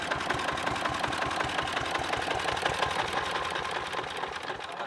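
A key-start power tiller engine runs at a steady idle, a rapid, even mechanical knocking chug that stays loud and close throughout, with no talking.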